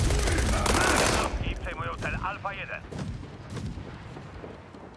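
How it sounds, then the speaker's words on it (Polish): Tank cannon fire and explosions from the video game World War 3 boom and crackle loudly in a dense burst, then continue as scattered gunfire and blasts under a layer of battle noise. "Walą czołgi."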